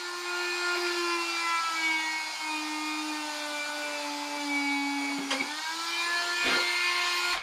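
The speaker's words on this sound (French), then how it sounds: "On va percer le pneu pour voir si ça améliore un petit peu la traction." A drill bores a hole into a small RC car tire with a steady, close, whining hum that dips and catches briefly twice, running alone without any talk.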